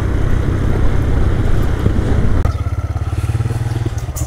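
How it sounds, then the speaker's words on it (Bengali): A motorcycle riding with its engine droning loudly, then the throttle eases and the engine settles into a rapid, rhythmic pulsing idle, close to the microphone with wind rush. "আমার বাইকের থ্রোটল ছেড়ে ছেড়ে দেয়, বাইকটা একটু দম দিয়ে চলে"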